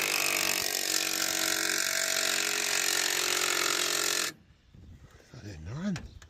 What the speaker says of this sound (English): I've got the wheel gun on it.